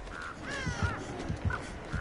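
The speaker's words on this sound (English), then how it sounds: "You got birds around you because you're staying still." Crows cawing around a character standing still in the video game Dead by Daylight, several harsh caws scattered over a steady ambient game background, moderately loud.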